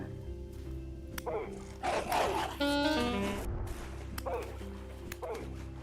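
A dog in the Vintage Story survival game yips and barks in short bursts among game sounds and a ringing chime run, moderately loud and close.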